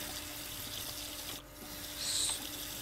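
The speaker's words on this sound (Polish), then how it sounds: "jeszcze wodę muszę wyłączyć" A running water tap in a horror video game, a steady splashing flow from a faucet into a sink that briefly dips before continuing.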